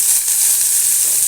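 Chopped onion fries in hot oil with mustard seeds in a tempering pan for a banana stem stir-fry, giving a loud, close, steady sizzle.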